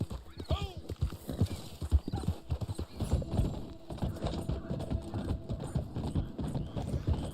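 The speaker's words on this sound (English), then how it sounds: "Feed our horse here." Steady clip-clop of horse hooves from the online Western game Red Dead Online, trotting rhythmically and close, with a whinny early on and voices talking over much of it.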